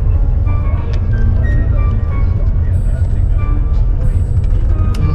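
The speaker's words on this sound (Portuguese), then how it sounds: "Tem um caminhão de som bem aqui na minha frente." Loud street noise from a sound truck carrying loudspeakers, with amplified music and a heavy low rumble running steadily throughout and someone talking close over it.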